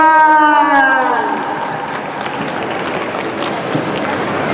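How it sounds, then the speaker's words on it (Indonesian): A talk show at a fishing tackle expo: a voice speaks briefly, then audience applause and crowd cheering rise into a sustained, fairly loud wash of noise. "Ya, tepuk tangan dong buat Dewa."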